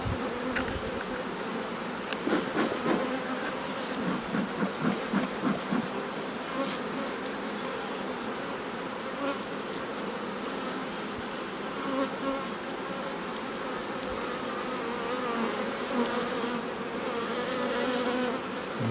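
Honey bees hum and buzz densely around a hive frame during a queen-rearing artificial swarm inspection, a steady close swarm drone with a few louder passes of individual bees near the microphone.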